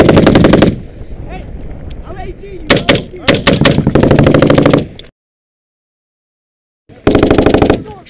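A machine gun firing in combat in Afghanistan, loud close bursts of rapid shots starting and stopping, separated by shouting soldiers and a brief silent gap before a final burst.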